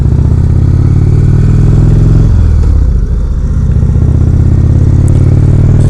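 A 2016 Indian Roadmaster touring motorcycle cruising on the road, its steady loud engine drone and rumble continuing throughout with a brief dip in pitch midway, heard close up from the rider's seat.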